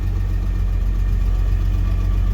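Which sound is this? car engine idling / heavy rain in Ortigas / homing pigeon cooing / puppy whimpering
car engine idling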